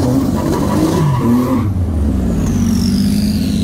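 A Porsche GT2 of about 750 horsepower roars close by, its engine revving hard with a brief tire squeal before it passes, leaving a fading high whine.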